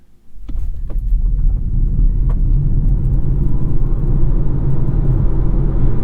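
An electric car accelerating hard after a braking test from 60, a deep rising rumble of motor and road noise that builds quickly and holds loud and steady, with a couple of brief clicks at the start.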